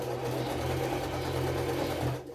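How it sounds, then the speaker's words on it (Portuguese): A sewing machine runs a continuous straight stitch along the edge of fabric, with no backstitching. The motor hum stays steady and close for about two seconds, then stops briefly near the end. "Vou passar uma costura reta aqui, sem retrocesso, sem nada, e bem de beiradinha assim mesmo."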